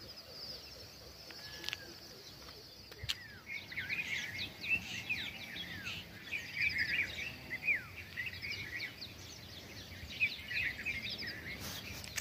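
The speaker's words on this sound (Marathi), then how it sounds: "चिमण्यांचा चिवचिवाट कलकलाटमध्ये ही सकाळ उजाडली." Sparrows chirping on a foggy early morning, a busy scatter of small calls and tweets from several birds at moderate distance, faint and airy over quiet background hiss.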